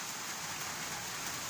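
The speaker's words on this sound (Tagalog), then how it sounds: "Umuulan, guys. If nakikita nyo, umuulan siya." Steady rain falling on an open-roof kitchen damaged by a typhoon, a constant close hiss of drops with no voices.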